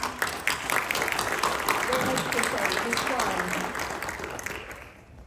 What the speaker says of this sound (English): If we can give him a quick round of applause, please.